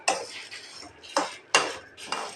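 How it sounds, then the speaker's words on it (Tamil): A spoon scrapes and clatters in a pan as chillies and lentils are dry roasted without oil, with four sharp metallic strikes in quick irregular succession, close by. "மிளகாவையும் போட்டுடலாம் ரெண்டும் சேர்த்து இது எண்ணெய் இல்லாமல் தான் நம்ம வதக்கணும்"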